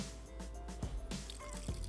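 Water poured lightly into ground cooking ingredients, a soft trickle with several small drips and splashes, close but quiet, with no talk.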